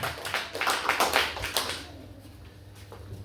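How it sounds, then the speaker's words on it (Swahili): A church congregation clapping their hands during a sermon, a burst of brisk, fairly loud claps that fades into quieter room noise with a few scattered taps. "Piga makofi mazuri kabisa."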